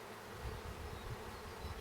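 Mountain Grey Caucasian honeybees buzz in a steady, continuous drone during an open hive inspection, a low, even hum that holds throughout without pause.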